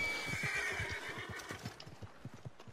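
A horse in the Red Dead Online video game lets out a loud, shrill whinny, followed by scattered clip-clop hoof beats as it moves about close by.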